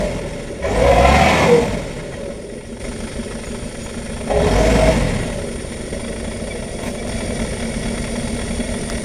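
A truck stuck in mud on a palm oil plantation revs its engine in two strong bursts over a steady idle, the roar rising and falling without any talk.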